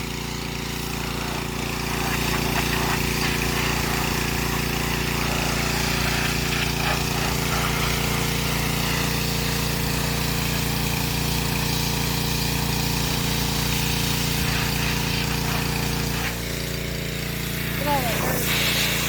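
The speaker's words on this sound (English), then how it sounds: "let's get this pressure washer running" A pressure washer's small engine runs at a constant steady drone, close and loud throughout, while someone talks over it near a yellow 1968 Plymouth Road Runner.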